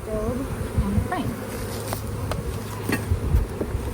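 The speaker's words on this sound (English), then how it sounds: "This is the top of the deeps, and there are less bees than the other colony." Honey bees buzz steadily around an open colony during a July hive inspection, a dense close swarm drone with individual bees zipping past, with no talking.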